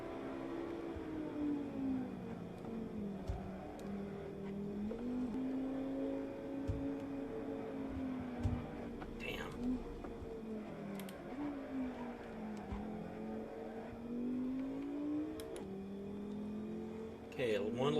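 A race car engine drones steadily in Assetto Corsa at Brands Hatch, its pitch climbing and dropping through long gears with audible shifts, while someone talks quietly over it.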